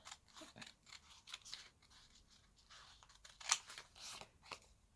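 Scissors snip through fabric for a beginner sewing-box advent calendar, a series of quiet, close, irregular cuts and crisp snaps.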